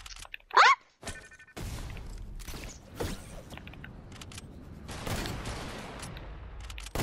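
Gunfire in Fortnite comes in scattered bursts. One sharp, loud shot opens the sequence, followed by a string of quieter cracks and thuds over a busy game soundscape.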